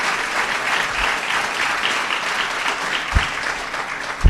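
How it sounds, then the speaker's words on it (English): Audience applause for Governor Phil Murphy at a New Jersey gun safety bill signing: sustained, even clapping from an indoor crowd with a couple of low thumps near the end. "applause."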